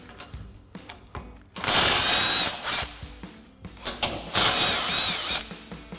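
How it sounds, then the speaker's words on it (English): An impact wrench fitted with a 17mm socket zips out the tow hook bolts on a 2007-2021 Toyota Tundra in two loud, close bursts of rattling hammering, with quieter clicks and handling noises in between. "we'll use our 17mm socket on our impact to do so"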